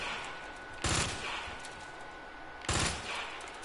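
Two short bursts of automatic gunfire from a weapon in Resident Evil 2 stand out over a constant game background hum. Each burst lasts a fraction of a second and the two come a couple of seconds apart. No talking.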